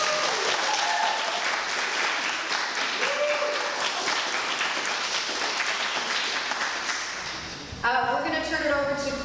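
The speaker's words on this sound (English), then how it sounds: "another round of applause" An audience gives a film sound designer a warm round of applause at a talk, a loud, full wash of clapping that lasts several seconds and then fades as a voice starts speaking over it.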